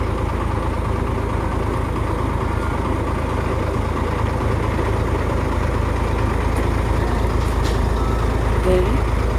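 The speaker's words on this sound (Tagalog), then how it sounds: "That's how big the truck is." A garbage collection truck on a Davao City street rumbles close by with a steady, loud engine drone that holds throughout, with faint background activity mixed in.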